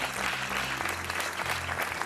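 Studio audience applauding a contestant on a Portuguese TV quiz show, dense continuous clapping throughout, fairly loud and close with no talk over it.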